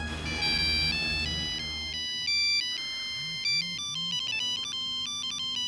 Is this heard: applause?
no